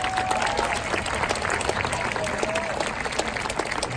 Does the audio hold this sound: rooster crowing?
no